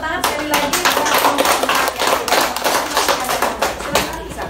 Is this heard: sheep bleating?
no